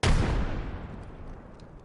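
A single loud gunshot or blast from the Apex Legends battle royale shooter, sharp and close at the onset, then a booming reverberant tail that decays over about a second and a half.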